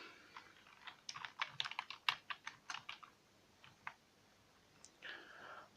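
A quick run of keystrokes on a computer keyboard, quiet and close, with a burst of rapid typing followed by a few scattered key taps and a final brief flurry.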